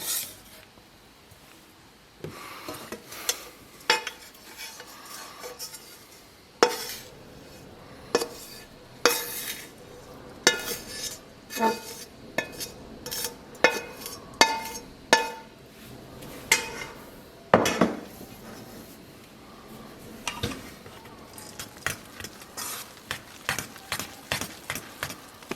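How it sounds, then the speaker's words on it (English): Repeated clinks and scrapes of a utensil against a bowl as mushrooms are stirred into an egg, bread and milk mixture for vegetarian mushroom kotletai, close and steady in irregular bursts with no talking. "I'm going to scoop the mushrooms into my egg bread milk mixture"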